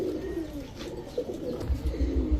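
Several Giribaz high-flyer pigeons coo in a steady, low, throaty murmur close by, with no voices.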